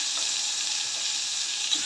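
Sliced mangoes dropping into hot oil for a home-style Bengali dish, giving a steady close sizzling hiss that runs the full length with no talk.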